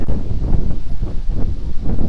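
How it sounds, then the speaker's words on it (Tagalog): Strong wind buffets loudly and steadily on Puktoy White Beach, roaring in gusts against the microphone. "Malakas lamang ang hangin."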